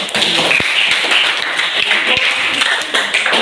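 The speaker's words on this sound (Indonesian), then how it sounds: "kita berikan aplaus untuk kelompok" Applause in a classroom for a group of students, a loud dense patter of many hands clapping steadily, with a few sharper taps and a voice briefly underneath.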